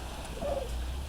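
A male turkey, a big heavy bird of around 40 pounds, gobbles once briefly at moderate distance against a steady outdoor background.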